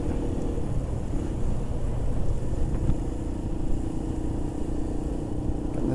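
A Chinese 125cc motorcycle rides through wet, rainy roads, its engine a steady low rumble mixed with broad wind and spray noise that holds at an even level throughout.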